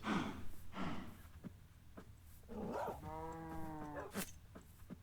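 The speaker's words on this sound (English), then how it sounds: "We've got all these cows around all of a sudden." Cows in the Minecraft video game give a single drawn-out, low mooing call partway through, set among quiet clicks and thuds of gameplay.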